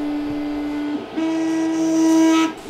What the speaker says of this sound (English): 3D printers are great, but they're noisy.